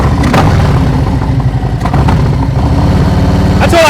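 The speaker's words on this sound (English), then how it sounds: "All right, listen to my engine." Motorcycle engine idling and running steadily up close, a loud continuous low throb with rhythmic harmonic pulsing, during a slow-speed riding practice session in Ohio; no talk.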